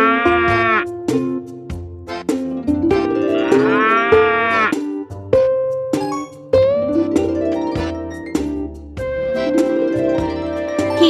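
Cows moo repeatedly, several long, loud, close calls overlapping one another, with a few other farm animal sounds mixed in.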